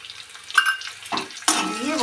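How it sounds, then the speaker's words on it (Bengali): Chopped onion and green chilli land in hot oil with a tempering of spices, giving a sudden loud sizzling burst that keeps hissing steadily after some quieter kitchen clatter, with a voice faintly underneath. "তাহলে বন্ধুরা আমি কিছুটা পেঁয়াজ ফ্রাই করি"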